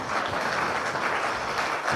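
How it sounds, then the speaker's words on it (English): Dense, steady applause from an audience at the close of a talk, loud and continuous for the whole stretch with no voices over it. "Another round of applause."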